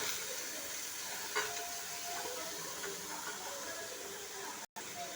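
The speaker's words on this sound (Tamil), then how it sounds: "நல்லா வதங்கிக்கிட்டு இருக்கு" Radish sautéing in a pan with onion and whole spices such as cinnamon, giving a steady soft sizzle and hiss that runs throughout, with a faint stir scrape near the start and a brief dropout near the end.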